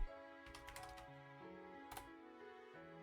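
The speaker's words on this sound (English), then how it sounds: "God, I hate this keyboard." Quick clicks of typing on a computer keyboard while working on a Godot game project, several bursts of keystrokes at close range over quiet tonal background music, with no talking.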